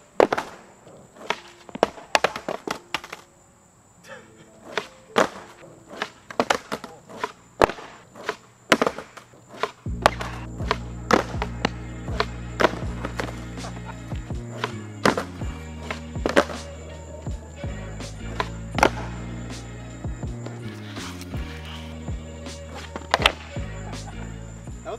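A skateboard landing repeated nollie flip tricks outdoors: sharp wooden pops and slaps recur at irregular intervals, some loud and close, over rolling wheel rumble that grows stronger in the second half.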